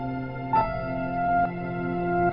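A dry piano part layered with a washed-out, echoey reversed piano, sustained chords swelling and shifting at a steady pace, moderately loud with no voices.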